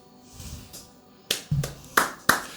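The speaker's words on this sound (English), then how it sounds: "We are clapping for Jesus." Scattered audience clapping at a church or motivational gathering, a few sharp bursts of claps building over a couple of seconds with short gaps between them, fairly close and lively.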